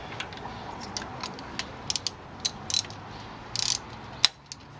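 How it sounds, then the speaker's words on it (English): A socket wrench loosening a spark plug on a 2005 VW Passat 1.8T, a series of short ratchet clicks and quick clicking bursts spaced out over several seconds, close and quiet. "It's a regular socket wrench."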